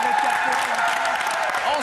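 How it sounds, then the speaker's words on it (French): A studio audience at a television game show applauds in a dense, steady clatter of clapping, with a voice talking over it. "On les applaudit."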